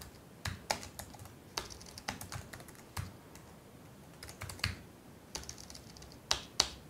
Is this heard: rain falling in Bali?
no